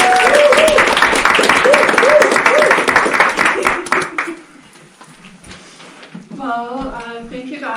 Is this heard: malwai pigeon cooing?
no